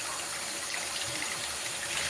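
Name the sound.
water rinsing tilapia fish under tap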